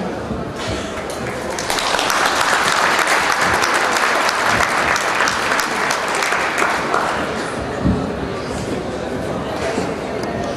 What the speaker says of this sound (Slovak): Again, big applause for mayor of Dolný Kubín, please.